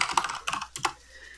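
Quick bursts of keystrokes on a computer keyboard, close and clear, clustered in a few short irregular runs before trailing off into quiet.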